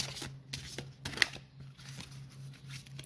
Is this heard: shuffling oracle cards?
yes